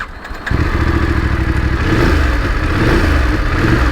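A 2026 Voge DS900X motorcycle engine fires up after a brief quiet moment, settling into a loud, steady, close-up idle with a low throbbing rumble and slight revving.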